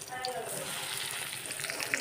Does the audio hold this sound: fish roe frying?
yes